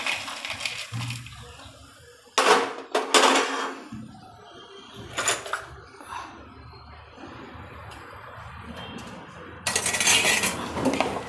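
Crispy thepla chevdo scooped from a pan into a bowl, with sharp metal spoon scrapes and clinks in a few bursts separated by quieter gaps, close and fairly loud.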